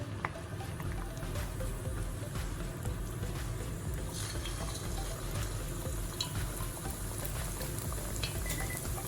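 Pork liver frying in a pan gives a steady, dense sizzle and bubbling hiss that runs unbroken from start to finish at moderate, even loudness, with no one speaking over it.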